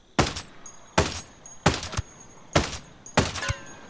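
Five loud gunshots at a sniper in a tower in Ghost Recon Breakpoint, played on Extreme Mode, crack out at a steady rhythm about a second apart, each a sharp close blast with a short tail.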